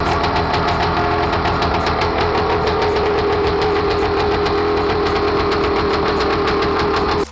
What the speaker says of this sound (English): This lightweight dirt bike featured a 396cc two-stroke engine